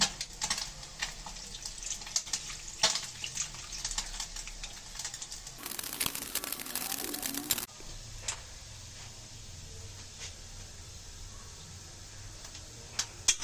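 Water is poured into a pot for Bangladeshi baila fish curry in a short, rushing two-second splash. Quiet kitchen clinks and taps come before and after it.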